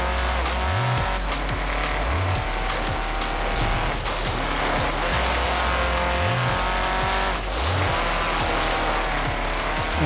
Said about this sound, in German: Warum kommen da jetzt so viele Autos?